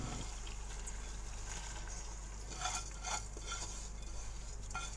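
Soaked dal and rice tipped into a pot of fried onions, a low constant hum under scraping and stirring, with a few clinks of a spoon against the metal pot, close, no talking.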